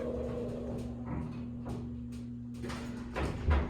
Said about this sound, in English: That door takes a while to close.